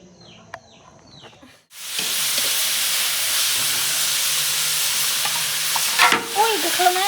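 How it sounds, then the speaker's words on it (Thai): A pot comes to the boil in a home kitchen with a sudden onset of loud, steady hissing and bubbling close by, preceded by faint clinks and followed by a few louder clatters near the end. "อุ้ยเดือดเลย"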